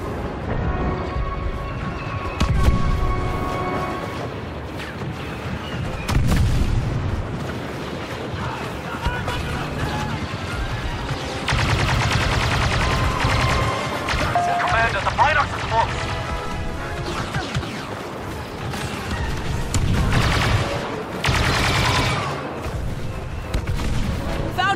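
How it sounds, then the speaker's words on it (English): Blaster gunfire and heavy booms from a Star Wars Battlefront 2 battle crackle in repeated bursts, mixed with explosions and mid-distance combat noise, with voices talking over the fighting. "Stay here and lay down cover fire"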